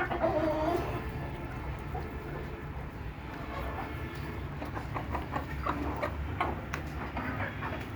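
Desi hens, chicks and a rooster over four years old cluck softly on a village farm. The sound is faint and scattered over a steady background hum, with occasional sharper calls.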